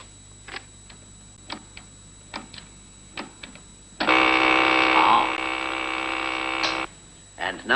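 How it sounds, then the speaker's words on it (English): A cooker timer ticks steadily for several seconds while a roast chicken cooks, then breaks into a loud, sustained buzzing ring lasting about three seconds before the ticking resumes. "wait for this timer to tell you that your meal is ready"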